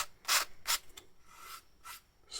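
Sanding the painted wooden hull of a 1/200 HMS Victory ship model, several short close rasping strokes in an uneven rhythm with brief gaps between them.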